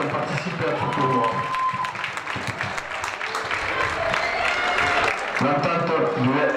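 A crowd applauds the girls who played in a cadette rugby tournament, steady dense clapping that carries on throughout with a few louder individual claps and some cheering voices mixed in.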